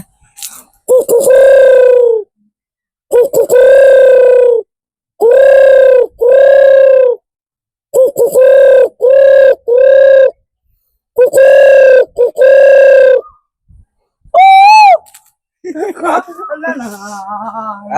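A dove's call: paired and clustered cooing notes, repeated in short bursts with brief pauses over about eighteen seconds, fairly loud and close, with a softer warbling tail at the end.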